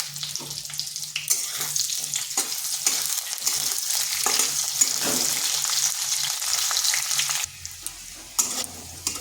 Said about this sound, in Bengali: এইভাবে নেড়ে চেড়ে একটু লাল লাল করে ভেজে নিয়েছি।